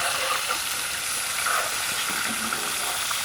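Silver carp pieces frying in hot oil for a curry, giving a steady, loud broadband sizzle and hiss that runs unbroken throughout, with no voices over it.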